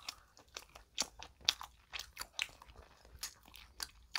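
Paldo bibim bread, a soft croquette-style bun coated in bibim noodle seasoning, eaten with close, quiet crunchy bites and chewing in an irregular rhythm.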